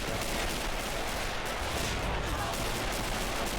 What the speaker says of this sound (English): Artillery already starting to hit